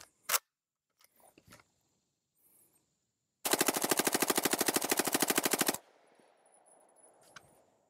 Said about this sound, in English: what all of you guys have been waiting for is a full mag dump